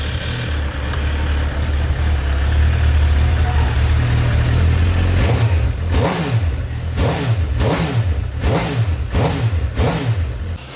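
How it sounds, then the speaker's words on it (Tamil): A superbike on its stock exhaust idles with a low rumble, then is revved in a series of rhythmic, rising and falling blips, loud and close. "ஸ்டாக் எக்ஸாஸ்ட் சவுண்ட் எப்படி இருக்குன்னு சொல்லிட்டு ஃபஸ்ட்டு உங்களுக்கு காட்டுறேன் பாருங்க"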